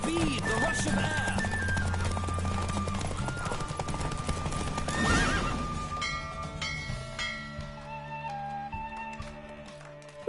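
A horse gallops at speed during a race in The Witcher 3, hooves clopping in a fast rhythm with a neigh, while music and a voice play over it before the hoofbeats fade toward the end.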